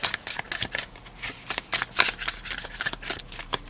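A deck of tarot-style pick-a-card decks being shuffled by hand, rapid bursts of riffling and slapping card noise in an uneven rhythm, close and moderately loud, no speech.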